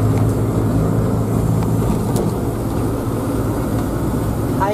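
A Toyota AE86 with quad throttles and a new exhaust manifold, its ignition timing and air-fuel ratio off, is driven, producing a loud, steady engine and road rumble heard close up throughout.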